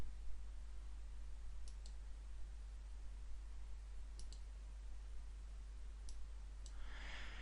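Mouse clicks on a computer while working in an Excel spreadsheet: a handful of crisp, faint clicks, some in quick pairs like double-clicks, spaced over several seconds against a steady low hum, with a short rustle near the end and no talking.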